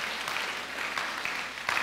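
Church congregation clapping to thank the Christmas decorators, a soft scattered patter of many hands that stays steady and fairly distant for a short stretch, with no voices.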